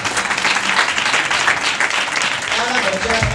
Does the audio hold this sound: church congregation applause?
yes